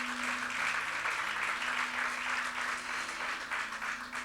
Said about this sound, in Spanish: Déselo fuerte el aplauso al Rey.